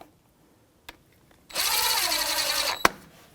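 A power tool with a 14mm socket snugs up a front brake caliper bolt on a 2007-2017 Jeep Patriot 2.4L, a single steady whir of just over a second, close and fairly loud, ending with a sharp click.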